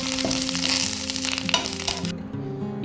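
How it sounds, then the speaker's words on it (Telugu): Curry leaves fry in a hot pan with a dense, steady crackling sizzle, close and fairly loud, with scattered pops and a few stirring knocks; the high hiss cuts off abruptly near the end. "ఇప్పుడు అదే ప్యాన్లో మనం కరివేపాకు కూడా వేపేసుకుందాం."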